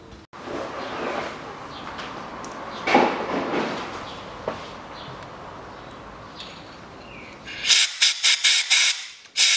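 Compressed air hissing in long blasts while blowing out a threaded hole on a 2003 Toyota Harrier, then a series of sharp, loud, short air bursts near the end.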